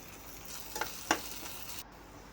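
Garlic and ginger frying in a pan for egg curry, a soft continuous sizzle with a couple of brief scraping stirs, close by and quiet, with no voices.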